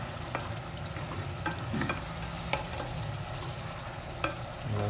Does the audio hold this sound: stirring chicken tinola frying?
yes